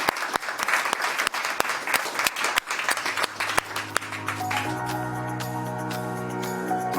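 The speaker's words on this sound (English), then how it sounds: "I just want to give you a round of applause and thank you for being here." An audience gives a round of applause at a conversation event, a dense burst of clapping that swells and then fades out as music takes over.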